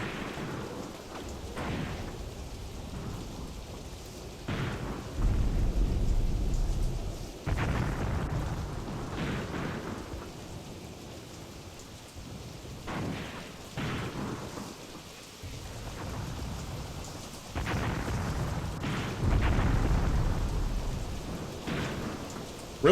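Soviet WW2 artillery and mortar shells burst in a video game battle, heavy booming impacts arriving irregularly, some near and loud, others distant rumbles, over a continuous crackling background.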